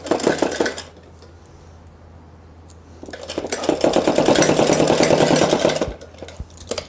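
A sewing machine stitches the shoulder seam of a suit, with a brief whirring burst, a pause with light handling, then a longer steady running stretch of motor and needle chatter nearby.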